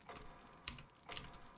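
Keys pressed on a PC computer keyboard while playing Resident Evil HD Remaster, giving two or three separate clicks in quick succession, close and fairly quiet, with no voices.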